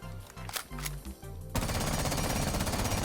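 Automatic gunfire in Rainbow Six Siege from a rifle fitted with a 1.0 scope: a few separate shots first, then a continuous dense burst of rapid fire, loud and close, with no talk.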